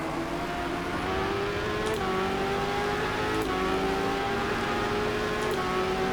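GT race cars in the rFactor 2 racing game at Interlagos, a steady close engine drone with tonal whine rising and shifting in pitch throughout, continuous and loud with no talk.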